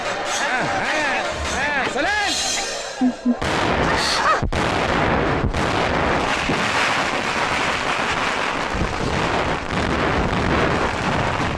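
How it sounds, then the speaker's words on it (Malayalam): Loud firecracker blasts go off, with sharp bangs followed by dense crackling and roaring noise, while voices shout nearby. "പേടിക്കണ്ട മൂലാളി വെടിവെച്ചതാണ് പടക്കം പടക്കം"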